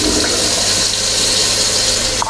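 A toilet flushes inside a 2022 Cruzzer 12-metre luxury motorhome on a Mercedes chassis: a loud, close rush of water that runs steadily for a couple of seconds, ending with a brief clunk.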